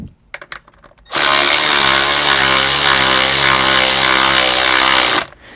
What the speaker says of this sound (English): An electric ratchet is fine.